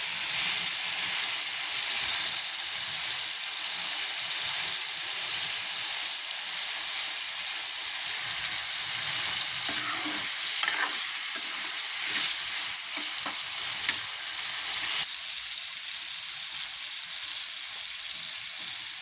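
Ridge gourd curry sizzling and frying steadily in a pan, a constant bright crackle with occasional soft stirring scrapes, close and with no talking.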